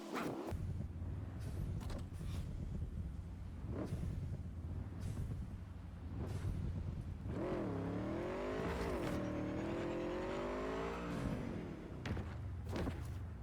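A motorbike ridden over steep roller-coaster hills in the video game Cyberpunk 2077, a steady low engine drone with thumps from landings and rising and falling revs as it climbs, fairly faint.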